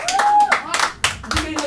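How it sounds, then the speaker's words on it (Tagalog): An audience at a business presentation in the Philippines claps briefly and enthusiastically in short bursts, mixed with loud cheering voices close by. "Yes, tuloy-tuloy, palakpak!"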